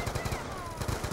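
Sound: gunfire shooting zombies in Black Ops 2 video game

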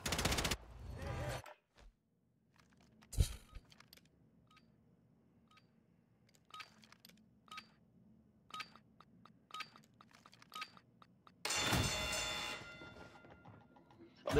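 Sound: gunfire in video game Warzone 3, Interceptor weapon

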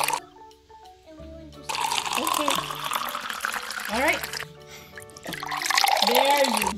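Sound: water being poured into a beaker

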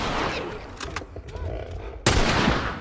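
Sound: gunshots in The Last of Us video game

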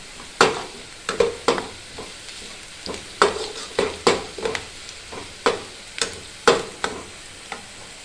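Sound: frying onions and chilies for kadhi

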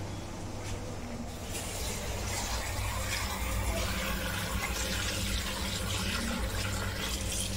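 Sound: water running while washing poha (flattened rice)

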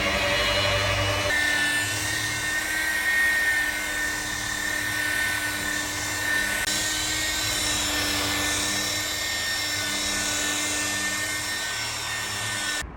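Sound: polishing machine applying thick compound to a car

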